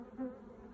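A brief, close buzzing of honeybees as they are shaken from hive frames, a soft hum with one slightly louder swell.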